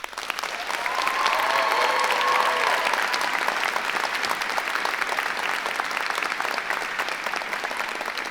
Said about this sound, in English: let's all take a minute with a round of applause to thank your faculty